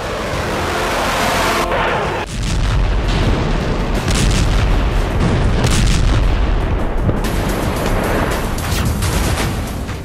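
Heavy bombing explosions from an Israeli strike on Iranian nuclear sites, a continuous loud roar of booms and rumbling blasts with deep low-end thunder that barely lets up across the whole stretch.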